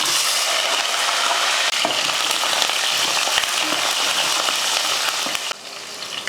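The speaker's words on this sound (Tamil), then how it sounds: "வெங்காயம் ரொம்ப கருகிற அளவுக்கு வதக்காமல் லைட்டாக வதக்குனா போதும்" Onions, garlic and curry leaves sauté in hot oil, giving a steady, close, dense sizzle with faint stirring scrapes, and no one speaks.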